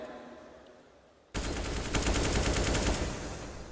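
Counter-Strike gunfire on the Inferno map at the PGL Major Krakow 2017: after a quiet start, a sudden loud burst of rapid automatic shots through a wall runs close and continuous for over two seconds.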